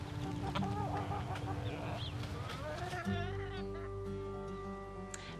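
Chickens clucking in a home garden, with a few close, irregular clucks and calls over a busy outdoor background.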